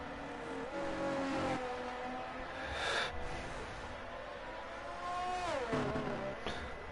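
A race car engine in a sim racing game, AlphaTauri car, holds a steady high whine through a corner, dropping in pitch as it lifts and downshifts, then climbing again on exit, loud and close with no talk.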